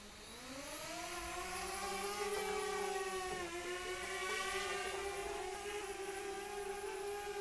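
A DJI drone's motors give a steady high-pitched whine that rises and holds during takeoff in wind, a buzzing whir with a slight dip midway, continuous and fairly close.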